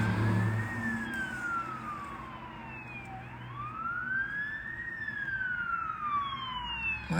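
A state trooper's police car speeds past with its siren on, wailing in long rising and falling sweeps that stay loud and steady over a low traffic rumble.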